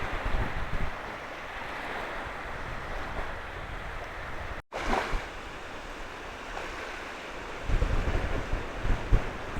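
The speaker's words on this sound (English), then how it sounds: "the perfect place to come and relax to the sound of the ocean" Ocean surf washes steadily onto the shore at a beach resort on the northwest side of Gili Asahan island, a continuous rushing roar with wind buffeting the microphone and no voices.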